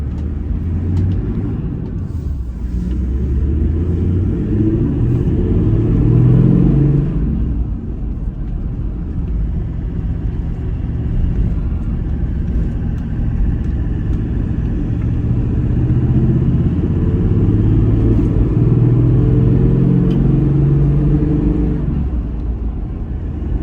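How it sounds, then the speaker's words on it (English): A Toyota Troopy with an intake upgrade, new clutch and remap tune drives off, its engine drone a steady close rumble inside the cabin with rising and falling pitch as it accelerates through the gears. "Taking off in the big rig straight after the tune."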